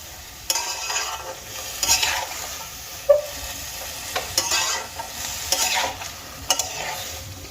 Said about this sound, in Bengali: এবারে আমি কাঁচা টমেটোগুলোকে 2-3 মিনিট নাড়িয়ে চাড়িয়ে ভেজে নেব।